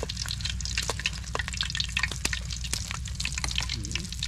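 Food frying in a pan: steady crackling sizzle with scattered sharp pops throughout, close and fairly loud, with no talk.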